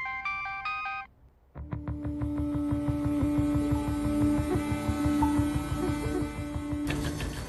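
A short electronic ringtone plays, then after a brief pause a phone rings in a steady repeating pattern over a low electrical hum.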